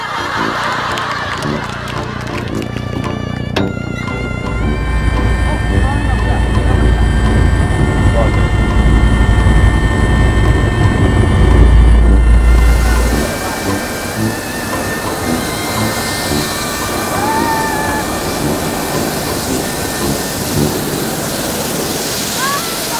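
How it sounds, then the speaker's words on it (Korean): A helicopter approaches with a loud, steady rotor and engine roar that builds and then drops off sharply partway through. Voices talk over it. "헬리콥터 오고 있어!"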